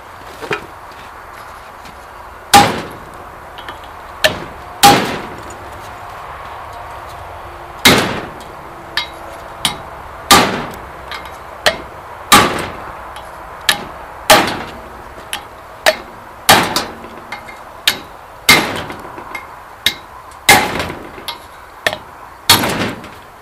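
Repeated sharp hammer smacks on a valve spring retainer during valve spring removal, about fifteen loud metallic impacts at irregular intervals, close and clear with no talking.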